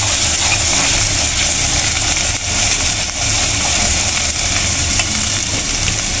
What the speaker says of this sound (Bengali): আমার মশলাটা কষানি শেষ।